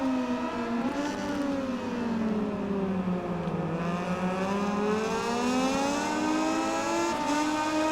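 A racing motorcycle engine in MotoGP 19 holds a steady, loud, high-revving whine that dips and climbs in pitch as the bike brakes and accelerates, continuous throughout with no talk.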